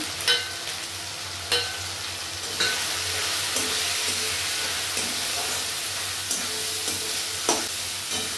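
Spice paste of turmeric, cumin, coriander, Kashmiri chili, garam masala and black pepper powders fries in a pan for a potato chicken curry, making a loud, steady sizzling hiss with a few soft stirring knocks.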